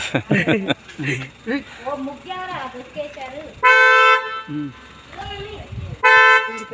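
Two loud car horn honks, one held for about half a second and a shorter one later, break into ongoing nearby conversation.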